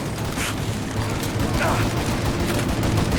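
Sustained gunfire in a street shootout in Mafia: Definitive Edition, a dense stream of rapid shots that runs throughout, loud and close, with a voice shouting over it.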